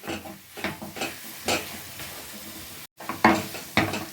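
Moong dal and mawa roast in a pan over a low flame, stirred with a series of separate scraping strokes about every half second, with a soft sizzle underneath and a brief gap near the end.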